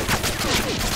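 Rapid automatic gunfire from Modern Warfare 2, a dense burst of shots packed tightly together, loud and close for about a second.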